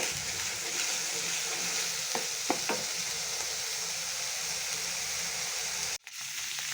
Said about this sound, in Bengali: এভাবে নাড়াচাড়া করবেন।